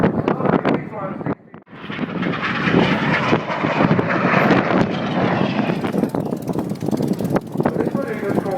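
A propeller-driven aerobatic airplane flies a vertical breaking manoeuvre at a coastal airshow in Southport in 2011. Its engine gives a loud, continuous, rough drone that swells and shifts throughout, with a voice commentating over it.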